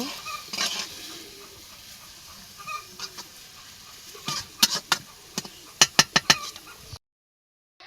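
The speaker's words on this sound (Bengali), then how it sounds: "আমি সুন্দর করে একটু নেড়ে নিই, মানে ডিমটার সাথে মিলেই নেই" Potato and egg fry being stirred in a pan, a soft continuous scraping sizzle broken by a run of sharp, close clicks of the utensil against the pan near the end.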